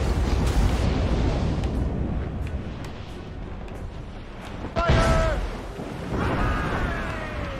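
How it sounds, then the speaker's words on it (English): Mortar shells burst in a naval battle in Assassin's Creed Rogue, heavy booming blasts rumbling under continuous battle noise, with one sharp, loud impact near the middle followed by further eruptions and whistling debris. "Those are mortars."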